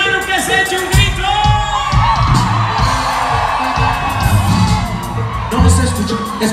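Crowd at a dance shouting and whooping in answer to a call from the stage, loud overlapping yells and cheers with bursts and thumps rising and falling over several seconds.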